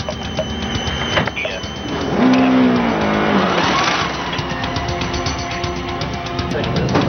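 Petter Solberg's rally car passing on a stage of Rally Finland/Germany 2006, its engine rising to a loud, close roar with a sharp pitch sweep, then fading, with voices and radio chatter underneath.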